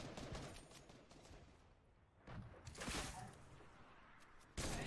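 Gunfire in Fortnite at a tournament match, including a heavy sniper rifle shot, with several sharp cracks and a burst of rapid fire at moderate loudness, one loud report right at the end.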